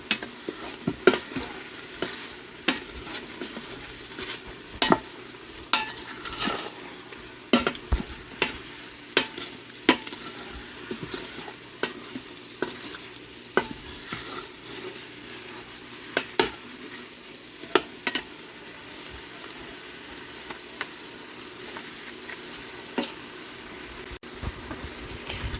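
Ground beef browning in an Instant Pot with seasoned salt and Worcestershire sauce, stirred throughout: a steady sizzle broken by frequent scraping strokes and light clinks of the spoon against the pot, close and moderately loud, no voices.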